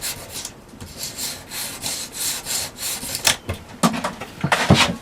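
Hedge trimmer parts being roughened by hand, a steady series of rasping, scraping strokes that swell and fade in rhythm, growing louder and sharper toward the end, with no voices.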